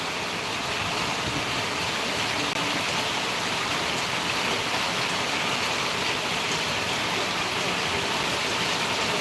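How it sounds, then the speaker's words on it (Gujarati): Heavy rain pouring down in Surat, a dense, even hiss of falling water that stays loud and unbroken throughout, with no voices heard. "સુરતમાં હા બહુ વરસાદ છે"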